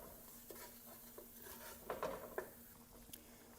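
A spoon stirs a thick butter roux with vegetables in a pot, giving faint scraping and light clinks against the metal, with a few louder knocks near the middle, all fairly quiet and without talk.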